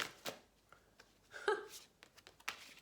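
Tarot cards being shuffled close up, with quick papery riffles and flicks in irregular bursts and a louder flurry midway, soft and intimate in a quiet room.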